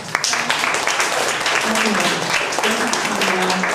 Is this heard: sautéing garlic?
no